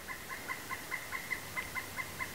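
Woodpeckers in a tree calling with a steady series of short, evenly spaced harsh notes, about ten in a row, at moderate distance against an outdoor background.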